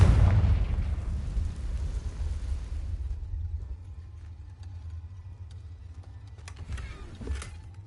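A Confringo spell explosion in the Hogwarts Legacy video game, a deep booming blast at the start that decays into a long low rumble with faint scattered crackles afterward.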